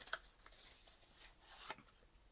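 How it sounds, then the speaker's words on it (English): A deck of breast cancer awareness playing cards is shuffled by hand, giving a few soft riffling bursts and brief crisp flutters, close and quiet, with no talking. "Which brings us to the whole live shuffle thing."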